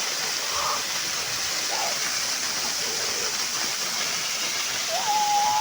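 Steady broadband rush of a Konkan waterfall where people sit bathing in cold water, a continuous close roar with faint high whistle near the end.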